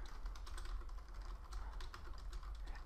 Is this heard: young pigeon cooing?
no